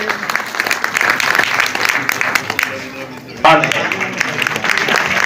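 Loud, sustained applause fills a hall at a large Hindu gathering, a crowd clapping densely and steadily with voices mixed in and a brief jump in volume partway through.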